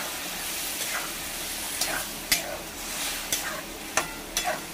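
Boiled red chickpeas sizzle in a pan beneath a quiet, steady frying hiss, with a handful of sharp spoon scrapes and clinks from stirring at irregular moments.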